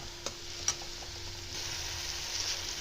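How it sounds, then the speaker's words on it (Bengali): Masala cooks down in oil in a pan for a green moong dal tadka, a steady close sizzle with a couple of sharp spoon taps near the start, the frying hiss growing fuller toward the end. "এরপর মশলাটাকে ভালো করে কষে নেবো, তেল ছাড়া অবধি ভালো কষে নেবো।"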